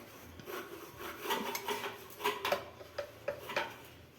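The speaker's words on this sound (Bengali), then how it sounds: "এখন একটু গুঁড়িটা নিয়ে একটু ভেজে নেব" Ground flour dry-roasted in a heated kadai, with soft rubbing and scraping strokes of a spatula against the pan repeating unevenly, each swipe short and close, punctuated by a few light metallic taps.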